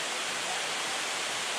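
Steady broadband rush of a waterfall in Bali, a dense, even roar of falling water with no breaks, close and constant.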